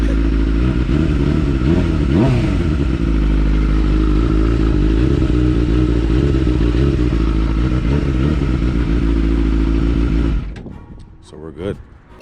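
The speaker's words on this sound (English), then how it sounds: "you guys heard a little startup of the bike" A 2003 Suzuki GSX-R motorcycle engine runs loud and close with a deep steady drone and a couple of revs, then cuts off near the end, leaving scattered clatter.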